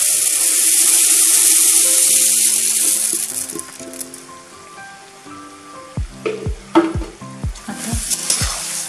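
Puffed rice hisses loudly as it hits a hot pan, then the hiss fades into a rhythmic series of scraping stir-fry strokes and clatters near the end, close and with no talking.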